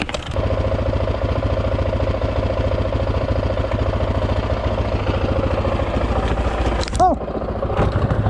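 A Honda 650R motorcycle engine running in gear, a steady loud close chugging drone with a constant throb throughout, and a brief whistle-like sweep near the end.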